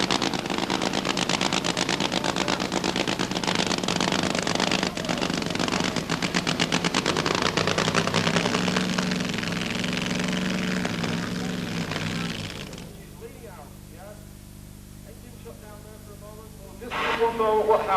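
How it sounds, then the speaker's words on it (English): A racing vehicle engine running rough at the 1989 National Power Sports Festival, Aintree, drones loud and uneven with rapid popping pulses, then drops away to a quieter idle with sputters before revving again at the end. "What happens when you hear these engines run radically poppy like it was doing a moment ago?"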